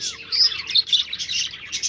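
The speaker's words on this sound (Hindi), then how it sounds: "हमारे फाख्ता अपने केज में हैं" Caged doves in a village yard give bright, continuous chirping calls close by, a busy overlapping chatter with no speech.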